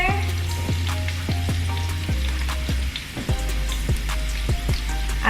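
Vegan chicken patties sizzle and crackle steadily in a pan sprayed with oil, with close, continuous frying and repeated pops and sputters.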